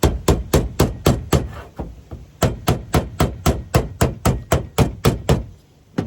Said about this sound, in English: doing some hammer and dolly work